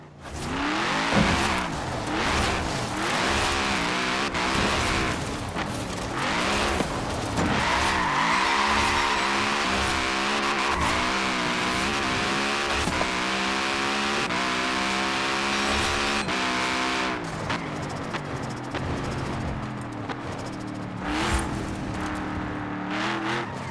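Cars in the racing video game Forza Horizon 4 roar loudly and continuously, with rising revs, sudden gear-shift drops and brief tire squeals across the whole stretch.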